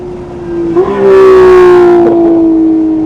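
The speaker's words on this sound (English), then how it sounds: "let this Porsche go by." A Porsche GT4 or GT3 Cup race car passes during a club track day at VIR, its loud engine note swelling and then holding steady for a couple of seconds with no talk over it.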